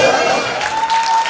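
Applause and cheering from a crowd at an 83rd birthday celebration as the family matriarch passes by, a steady wash of clapping with voices mixed in, fairly close and continuous.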